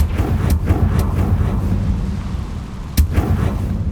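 Confringo spell blasts in Hogwarts Legacy, a series of sharp booming explosions, several rapid hits early then a louder burst near the end, over a low rumbling background.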